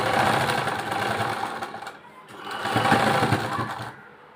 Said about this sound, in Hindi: अब यहाँ पर भी ऊपर के पार्ट पे भी हम यहाँ पे सिलाई लगा लेंगे